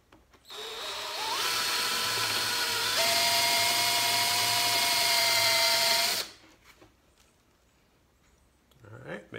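A power drill bores out a broken rake handle, running in one loud, steady whining burst of about six seconds, with the pitch rising as it spins up and then holding. It cuts off abruptly, leaving quiet handling noise afterward.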